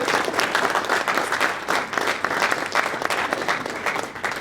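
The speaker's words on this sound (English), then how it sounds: "So, big round of applause for Jamie Kraft." An audience at a tech week keynote event applauds, a dense, steady wash of many hands clapping that holds at an even level throughout, with no talk over it.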